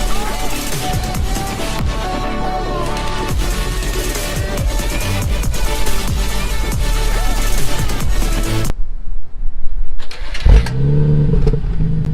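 A BMW 335i fires up and revs, giving loud engine roar with repeated rising and falling throttle blips, then a sudden drop before a short, punchy blip near the end.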